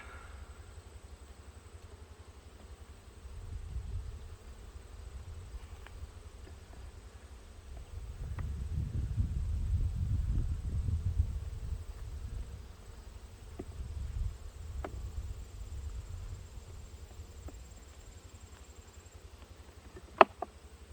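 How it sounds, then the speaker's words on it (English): A dense, steady hum of honey bees buzzing from an opened, lightly smoked hive, swelling louder in the middle, close and continuous with no talk. "Lots of bees."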